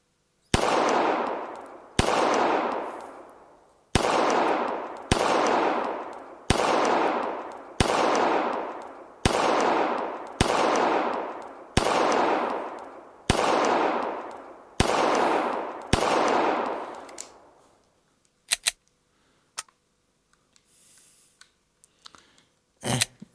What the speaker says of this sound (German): Jetzt schieße ich nur auf die.